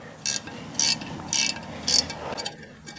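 A ratchet cranks a lag bolt down into a shield anchor in four evenly spaced bursts of sharp clicking, each followed by a brief pause, close and loud with no talking.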